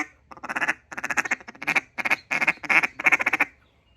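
A duck call, either a Cutdown or a J-frame style, blown in a rhythmic series of loud, close quacking bursts that come in grouped cadences, then stop abruptly.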